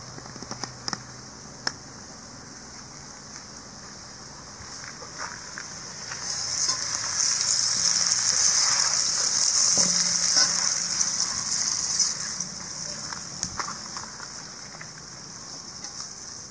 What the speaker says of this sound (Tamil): உருளைக்கிழங்கு வந்து மெதுவாக ரோஸ்ட் ஆகட்டும்.